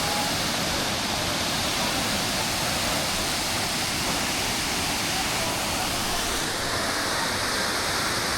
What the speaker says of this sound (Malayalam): ഇതാണ് ഫുൾ വ്യൂ വാട്ടർഫാൾസിൻ്റെ കേട്ടോ.